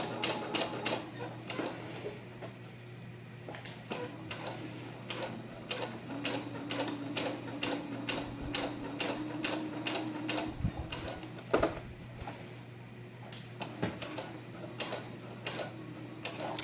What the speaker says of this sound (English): we're going to sew the rest of the way up the back of the piece at 5/8 of an inch with a gathering stitch